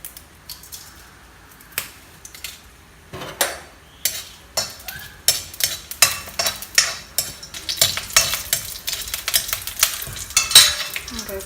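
Dried red chillies crackling in two to three spoons of coconut oil in a hot iron kadai, an intensifying run of sharp pops and spatters with metal stirring clinks, close and loud, no talk.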